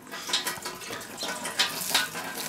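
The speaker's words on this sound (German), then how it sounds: "Und hier in die Schale haben wir jetzt ein warmes Wasser rein." Warm water is poured into a bowl set inside a charcoal grill, a short splashing, gurgling trickle with uneven bursts, close and fairly quiet.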